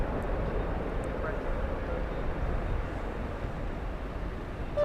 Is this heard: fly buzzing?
no